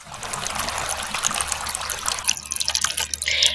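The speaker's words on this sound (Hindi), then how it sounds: "अरे चलो मैं जल्दी से नल चालू कर देती हूँ" A turned-on tap in a toy dollhouse bathroom setting runs water in a steady, close trickle and splash that keeps going throughout, with no talking over it.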